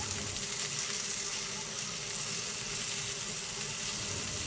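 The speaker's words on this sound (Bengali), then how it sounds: "এই তেলের মধ্যেই সিদ্ধ করে রাখা কচুরমুখীগুলো দিয়ে লো হিটে ভালো করে ভেজে নিব" Boiled taro corms fry in oil over low heat, making a soft, even, steady sizzle that stays constant and close throughout with no other sounds.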